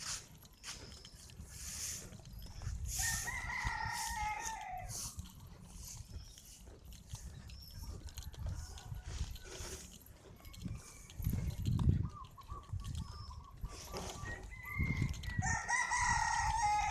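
Chickens and roosters at a Thai temple, Wat Prai Pathana, with several cocks crowing loudly and repeatedly, some near and some farther off, over clucking and a busy outdoor background.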